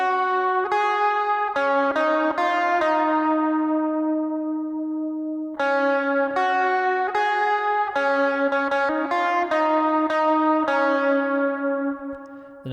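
Electric guitar lead riff, repeated twice through with effects and echo: picked notes ringing into one another, a long sustained note midway, then the phrase again, played alone and close.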